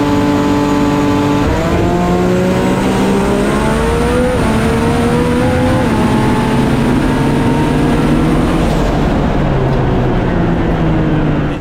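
A 2500hp Toyota Supra makes a drag racing run, its engine screaming loud and close as it climbs through the revs with clear gear shifts, then it sustains a high roar that cuts off near the end.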